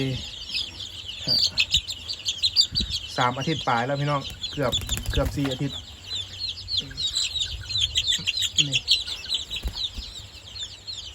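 Domestic chickens, part of a backyard flock of nearly 200 birds, cluck and chirp steadily while feeding on commercial feed, with someone speaking over them throughout.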